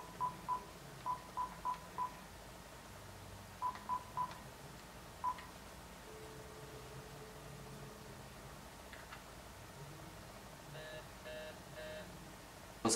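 A telephone dials a random number: clusters of loud touch-tone keypad beeps in quick bursts, followed by a hushed, hissy line with faint tones and a few soft electronic chirps near the end.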